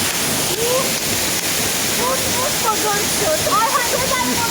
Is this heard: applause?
no